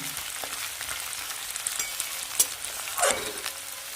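Chopped onions and peppercorns frying in a pan for cabbage cooked with meat or fish, a soft continuous sizzle with scattered stirring scrapes and one brief louder hiss of frying near the end.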